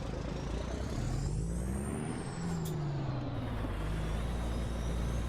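Kenworth W900B truck in American Truck Simulator, a steady loud engine drone with shifting tonal whine and a brief air-brake hiss midway, continuous throughout.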